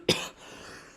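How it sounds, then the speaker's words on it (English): A single sharp cough near the start, loud and close, followed by a quiet room tone. "Before I got interrupted there by the cough"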